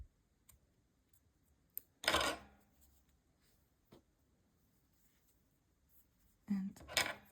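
Scissors snip through crochet yarn in a quiet room, giving two short, crisp cuts a few seconds apart plus a faint tick in between, close to the ear and otherwise near silence.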